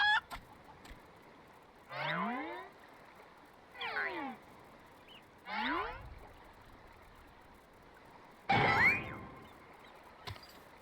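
Chickens cluck in Final Fantasy XIV: several short, separate squawking calls spaced a couple of seconds apart, with one louder burst near the end, over a quiet game background.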